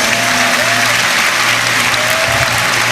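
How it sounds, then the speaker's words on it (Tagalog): Loud, continuous crowd applause for young participants at the Marian Youth Congress during the Peñafrancia Festival, thick and even with faint tonal hum and murmur beneath. "Makusog na palakpak para sa mga jóvenes."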